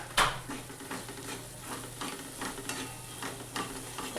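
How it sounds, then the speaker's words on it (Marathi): Masala is sautéed and stirred in a pan: a soft, continuous sizzle with light scraping strokes of a spoon against the pan at an even rhythm, faint and close, with no voices. "याला मिनिटभर चांगलं परतून घ्यायचं."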